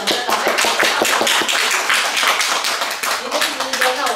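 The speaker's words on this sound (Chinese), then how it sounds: "来，给他掌声。" Audience applause at a Chinese New Year celebration at Steinway & Sons, a dense, steady burst of many hands clapping close by that carries on for several seconds with voices mixed in.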